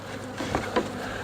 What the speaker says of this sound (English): there's too many bees right there